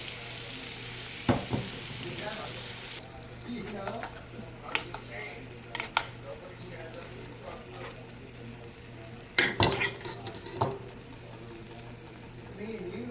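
Egg fries with bitter gourd (ampalaya) in a pan under a continuous soft sizzle, punctuated by sharp clanks and scrapes of a utensil against the pan, while a voice speaks faintly at times.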